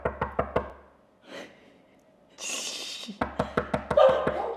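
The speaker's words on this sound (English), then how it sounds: "Oh my gosh, someone's at the door." Knuckles rap on a door in two bursts: four sharp knocks, then a quiet gap with a breathy pant and a soft hiss, followed by a faster run of about eight loud, close knocks.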